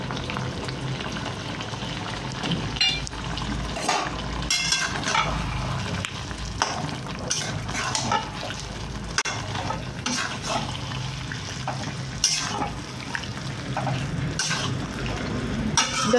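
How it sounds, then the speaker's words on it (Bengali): Prawns go into a pan of young jackfruit curry, which fries and sizzles steadily. Scrapes and clatters from stirring break in now and then, with no talk. "আর এর মধ্যে উপর থেকে দিয়ে দিলাম চিংড়ি মাছগুলো।"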